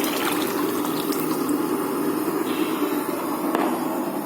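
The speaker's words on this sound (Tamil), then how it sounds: "இப்போ நான் குழம்பு தூக்கி அதில் ஊற்றுவோம்." Curry (kuzhambu, a dried-fish curry) poured into a cooking pot, giving a continuous close liquid gushing and splashing with no talk.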